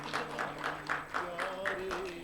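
An audience at a mushaira poetry gathering claps in a quick, even rhythm under a voice that keeps talking.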